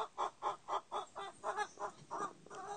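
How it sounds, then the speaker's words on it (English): Backyard chickens clucking in a steady series of about ten evenly spaced calls, moderately distant and fairly quiet, with no talk over them. "Anyway, that's our chickens back there."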